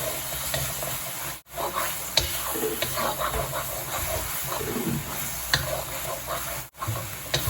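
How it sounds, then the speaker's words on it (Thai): Coriander root and fermented soybean paste being stir-fried in a pan make a loud, steady sizzle and hiss with scraping stirs throughout, close and continuous with no talking, briefly cutting out twice. "ผัดต่ออีกนิดนึงให้เขาหอมค่ะ"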